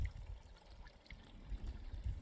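Natural gas bubbling up through water at an old coal-mining bore hole on Malcolm Island, a soft continuous trickling, gurgling burble heard close by and alone, with a steady low rumble beneath.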